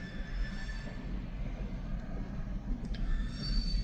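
A long freight train of about forty cars rolls along railroad tracks with a continuous rumble, steady and fairly close, with faint metallic squeals.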